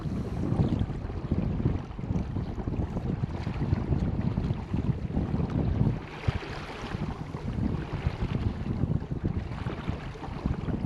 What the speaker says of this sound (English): It's getting pretty windy out here.